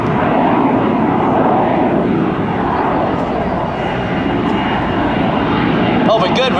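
An AV-8B Harrier II jet engine runs at full power during an airshow, a loud broad continuous roar that holds steady throughout.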